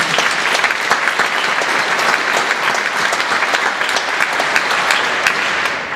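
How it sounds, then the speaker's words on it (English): Dense, sustained audience applause at a talk on cancer prevention in Australia, loud and steady for six seconds, many hands blending into a continuous wash with no voices on top. "So I just like a round of applause."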